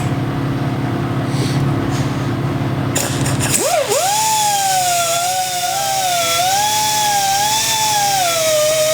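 A power tool spins an abrasive green fingered Scotch-Brite pad against a metal English wheel anvil, with a steady high whine whose pitch wavers as pressure changes, loud and close after a brief noisy start.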